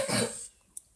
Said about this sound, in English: Sorry about that little cough right there.